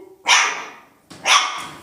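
Two loud, close barks from 3.5-week-old JCH puppies, each a bright yelping bark with a short tail, about a second apart with near silence between them.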